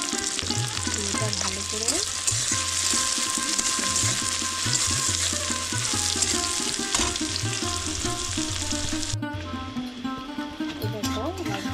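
Chopped onion and green chili frying in a pan, a steady broadband sizzle with stirring clatter running throughout, while a person speaks over it.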